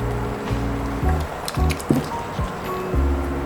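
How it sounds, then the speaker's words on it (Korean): Beaten eggs poured into an oiled frying pan make a soft, wet squishing and splattering pour over a few seconds, set against steady background tones. "이제 프라이팬에 기름을 두른 다음 준비한 계란을 전부 부어줍니다."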